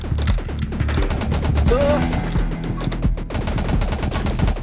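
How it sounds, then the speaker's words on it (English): Water cannon weapon in the 20 Minutes Till Dawn video game, a dense rapid stream of firing bursts with crashing impacts layered under game music. "spray my weird water cannon"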